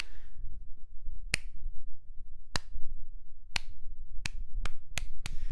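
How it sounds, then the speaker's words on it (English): A slow clap on a podcast: single sharp hand claps ring out alone, widely spaced at first and then coming faster toward the end over a quiet room. "It's a slow clap."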